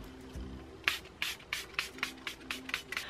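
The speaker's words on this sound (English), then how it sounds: "I just love this little spray." A cosmetic setting spray mists onto a face in a series of about eight short, crisp spritzes, evenly spaced and close up, with a brief low rumble just before the first one.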